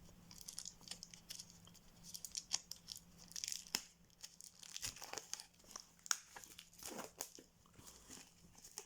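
Cellophane wrapping crinkles and tears off a new Arcana Sacra oracle card deck, close-up crackling and rustling that comes in irregular bursts, with a faint steady hum underneath and no one talking.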